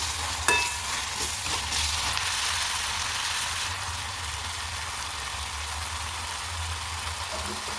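Prawns in green chili sauce sizzle steadily in a pan while being stirred, with a sharp clatter near the start and then an even frying hiss throughout, close and alone without speech.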